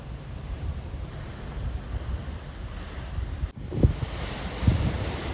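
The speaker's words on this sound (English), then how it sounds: "You hear it's like a wind tunnel." Strong blizzard wind roars continuously at the New Jersey shore, a steady rushing blast with heavier buffeting gusts toward the end, close to the microphone and without talk.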